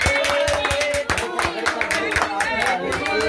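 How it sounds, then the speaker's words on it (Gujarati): Family members clap together at a daughter's birthday celebration, a run of sharp, rhythmic hand claps close by with a brief dip midway. "હાલો એ બધા તાળીઓ પડો"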